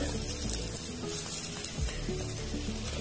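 Grated coconut roasts in a hot pan, giving a steady, dense sizzle and crackle heard close up with no voices over it.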